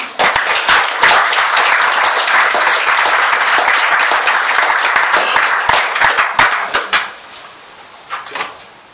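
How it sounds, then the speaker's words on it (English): Loud, dense applause from a crowd fills most of the stretch, then thins out into a few scattered claps before fading. "I'd like to get the applause"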